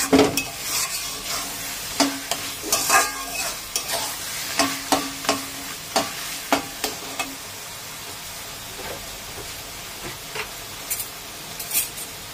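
Taro leaves and a katla fish head sizzle steadily in a pan while a spoon scrapes and stirs in repeated sharp strokes, busier early on and thinning later, with no talking.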